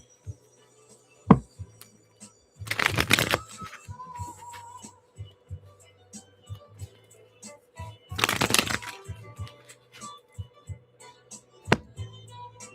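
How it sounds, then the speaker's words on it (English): Playing cards being shuffled in two bursts of riffling, separated by quieter taps and handling sounds, close by. "let me shuffle my cards"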